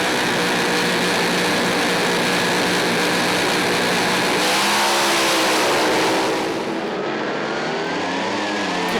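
Supercharged doorslammer drag race cars roar loudly and continuously down the strip, a dense, steady engine blast that thins slightly near the end.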